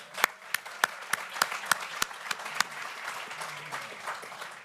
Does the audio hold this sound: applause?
yes